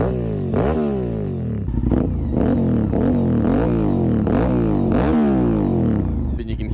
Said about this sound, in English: let's hear that Saito Racing exhaust